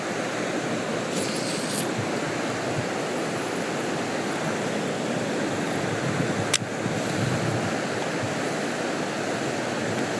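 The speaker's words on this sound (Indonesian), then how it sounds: "Bisa lihat ombaknya saya tadi." Ocean surf washing ashore near a river mouth, a continuous broad roar of breaking waves mixed with wind buffeting the microphone, with one brief sharp knock partway through.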